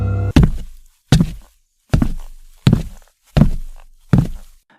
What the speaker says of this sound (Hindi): तभी ऊपर की मंजिल से कदमों की आवाज आई।